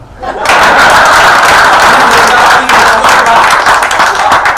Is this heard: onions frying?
no